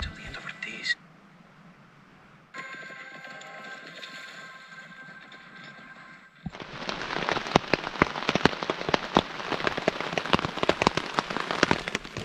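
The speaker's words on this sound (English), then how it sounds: "Sounds like the rain set in and it's been in that way for about an hour now." Heavy rain pattering densely on a surface at a riverside campsite, loud and steady, setting in after a quieter stretch of faint background noise.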